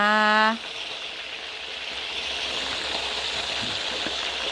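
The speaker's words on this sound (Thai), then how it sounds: "ใช้น้ำมันหมูทอดนะคะ วันนี้ค่ะ ตั้งกระทะให้ร้อน" Chicken wings fry in hot lard with a steady, close crackling sizzle, right after a brief musical tone at the start.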